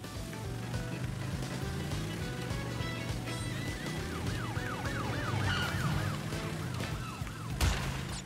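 A police car siren wails repeatedly in Crash Bandicoot Warped, a rising and falling electronic whoop over a racing vehicle's engine and game sounds, fairly close and loud.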